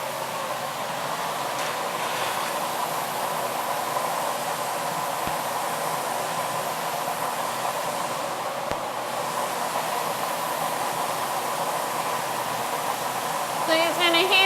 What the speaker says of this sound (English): So he's going to heat it up on the glory hole